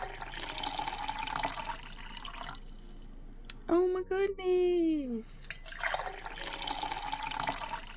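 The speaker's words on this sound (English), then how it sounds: "Oh, all I hear is pouring." A drink pouring in The Red Strings Club video game, a steady liquid trickle under a continuous hiss, loudest in the middle. Someone speaks briefly alongside it.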